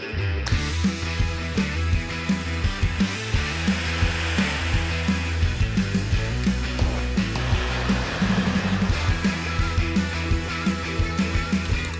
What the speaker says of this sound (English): I was able to get the end cap off by using some heat